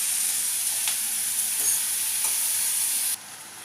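Baby corn and mixed vegetables fry over a high flame in a pan, giving a steady, close hissing sizzle with a few stirring scrapes, which drops quieter near the end.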